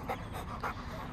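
A dog pants in quick, steady breaths on a downtown street in Cary, close and continuous for a moment with no talking over it.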